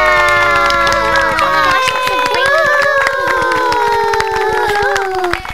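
Wedding guests cheer and clap as the bride arrives, with loud shouting and whooping voices riding over scattered hand claps in a lively, close crowd throughout.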